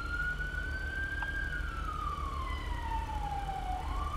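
A police car siren wails in a GTA roleplay game, one long rising and falling tone sweeping steadily over a constant engine rumble, close and continuous.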